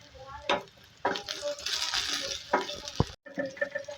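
Okra and beans frying in hot oil with a little turmeric, a steady broadband sizzle with scraping stir strokes and a few sharp clinks, brief gap near the end, then frying resumes.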